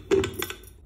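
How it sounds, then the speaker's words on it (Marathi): A metal lid fitted onto a pressure cooker in a home kitchen, a few quick close clinks and knocks within under a second, with no talk. "आता आपण कुकरला ढक्कन लावून घेऊया"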